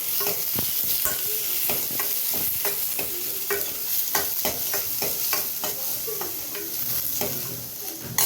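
Onions frying in a pan for dosa chutney, with a continuous loud sizzle and repeated sharp scraping and clacking of a spatula stirring throughout.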